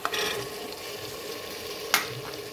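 Minced meat (qeema) and green peas frying and being stirred in a pan, a steady close sizzle with a sharp utensil scrape near the end and no talking.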